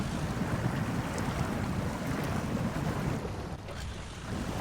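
Truck engine held at full throttle while wading through water in the SnowRunner video game, a steady, loud roaring wash of engine and churning water that eases slightly toward the end.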